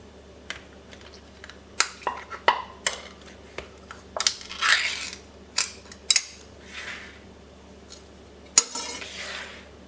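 Two 4.6-ounce cans of Vienna sausages being opened in a kitchen, a run of sharp metallic clicks, pops and scrapes from the lids and tabs, close and separated by brief pauses.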